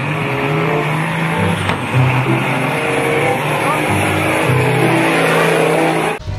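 A tronton truck drives in a busy vehicle scene, its steady engine drone continuous and fairly loud, with tire noise and other car sounds blending around it.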